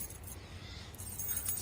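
A ring of store keys jangles close by, a soft continuous metallic clinking and rattling that swells slightly toward the end, with no talk.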